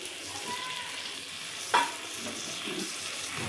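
Spice paste sizzles in a pan beside vegetables seasoned with salt and turmeric, a soft steady fry with one sharp utensil clink partway through.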